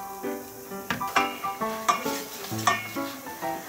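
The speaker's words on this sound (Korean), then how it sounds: "이제 물이랑 미역을 넣으면 돼요." Seaweed goes into a hot pot of cooked meat for Korean seaweed soup, bringing a soft sizzle and several close clanks of a utensil against the pot, with no talk.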